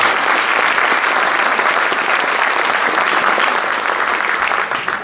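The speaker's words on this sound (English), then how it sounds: "Let's give them a round of applause." Loud, sustained applause from an audience for staff members with seniors at a school district end-of-year faculty awards event, a dense wash of clapping that fades slightly at the end.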